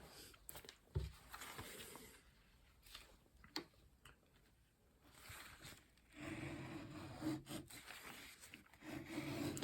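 A Scharf-fix paring tool shaves skinny, thin strips, giving soft scraping rubs in short strokes with pauses, then a longer, steadier rasping stretch near the end, close and fairly quiet, with no talking.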